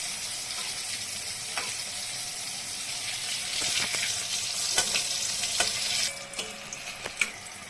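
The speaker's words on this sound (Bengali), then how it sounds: "বেগুনটা আমি আগে ভেজে নিই তো বেগুনটা ভেজে নেব" Steady sizzling of eggplant, seasoned with turmeric and salt, frying in hot oil, with occasional crackles and light scraping of a utensil near the end.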